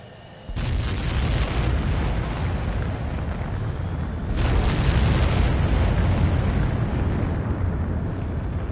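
Jet aircraft launching and taking off in a video game, a sudden loud engine roar that kicks in after a brief quiet lead-in, then surges again midway into a sustained, powerful rumbling blast.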